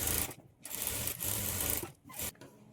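A sewing machine stitches blouse lining to the main fabric, starting at the neckline, running in steady mechanical bursts with brief pauses between runs.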